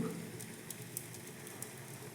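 Finger millet soup bubbles in a pot on the stove, a faint, steady simmering hiss with scattered soft pops, heard alone at low volume.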